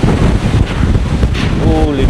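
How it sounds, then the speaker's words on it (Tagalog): Strong super typhoon wind roars and buffets the microphone continuously in a loud, dense rush. A brief tonal whine rises near the end. "Lakas nga ng hangin."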